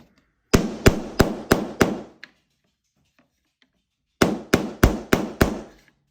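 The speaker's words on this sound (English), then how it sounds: "Grab my hammer." A hammer strikes sharply five times in quick, even succession on a covered piece of a seasonal tray, then after a pause another five rapid taps, close and crisp.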